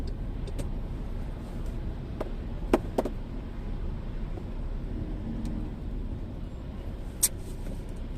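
Diesel car creeping along in slow, congested city traffic, a low steady engine and road rumble heard from inside, with a few brief sharp clicks or knocks over it and no talking.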